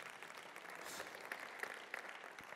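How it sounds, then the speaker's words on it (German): Audience applause during a sermon at a Karlsruhe mission church, a steady patter of many hands clapping at moderate volume for a few seconds, with no talk over it. "Jetzt darfst du klatschen."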